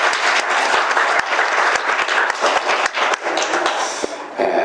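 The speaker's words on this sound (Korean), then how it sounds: "우리 하나님께 감사하며 박수를 하나님께 올립니다" A church congregation at a Christmas service applauds in a dense burst of clapping that carries on for several seconds and then thins out at the end.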